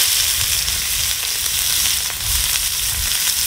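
Chopped onions hit hot oil already flavoured with cumin seeds, giving a loud, dense, continuous sizzle that stays close and even throughout.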